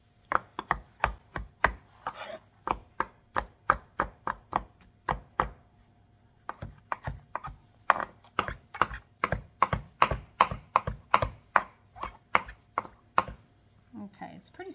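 A knife rocks back and forth on a cutting board, mincing food in a fast, even series of close, crisp chops, with a brief pause partway through before the steady chopping resumes.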